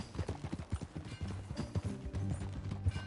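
Steady clip-clop of horse hooves at a walking pace in Red Dead Redemption on PS4 Pro, close and even, with a low rumble of movement underneath and no talking.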